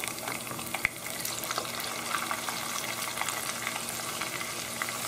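Cumin frying in hot oil in a pan for kichadi gives a steady close sizzle, broken by faint clicks and scrapes of stirring and one sharp knock near the start, with no talking.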